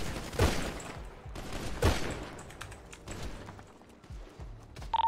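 Bursts of gunfire from a shooter video game, two loud volleys early on followed by a scattered rattle of shots that gradually fades, with no talk over it.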